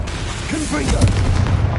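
A Confringo fire spell goes off in Hogwarts Legacy, giving a booming blast with a low rumble. It sits under a brief voice that swoops in pitch.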